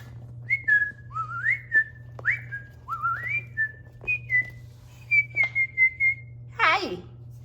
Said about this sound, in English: Am I whistling?